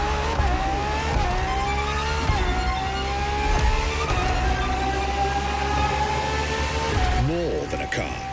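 Ferrari FXX-K race car engine in The Crew Motorfest, a steady high-pitched drone holding on and shifting slightly in pitch, then a quick rising rev near the end, mixed under music-like tones.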